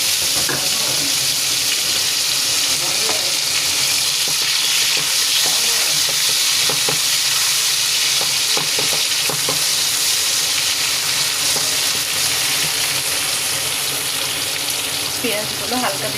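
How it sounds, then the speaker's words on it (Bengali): Onions fry in oil in a pan with cinnamon, cloves and cardamom, a continuous loud sizzle with occasional stirring scrapes and clinks throughout. "পেঁয়াজগুলো হালকা ভেজে নিব।"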